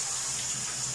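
Tap water running steadily into a kitchen sink during hand dishwashing, a close, continuous splashing rush.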